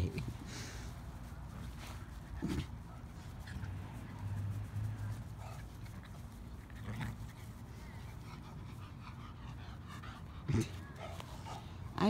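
Dogs play at an outdoor dog park on a hot day, giving soft yips, whimpers and a few short barks at a middle distance over a faint background hum.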